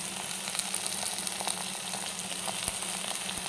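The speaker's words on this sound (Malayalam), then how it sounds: "നമ്മൾ ഇതൊക്കെ കൂടെ ഒരുമിച്ചിട്ട് വഴറ്റിയെടുത്താൽ മതിയാവും" Chopped tomato, onion and green chilli sautéing together in a pan for fish curry: a soft, continuous sizzle scattered with small crackles and pops, close and even.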